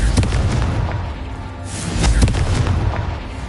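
A Confringo blasting spell goes off in a Harry Potter video game, a loud booming blast with a rumbling swell around the middle and a second surge of crackling burst toward the end.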